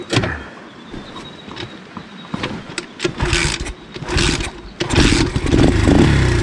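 A 1972 Honda Dax fitted with a 125cc Lifan engine cranks and catches, then runs unevenly with spluttering bursts and rising revs, close and fairly loud, with no talking.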